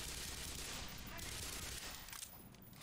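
Rapid gunfire from the Black Mesa video game, a dense continuous fusillade of shots and explosions filling the clip, loud and close, with no talk over it.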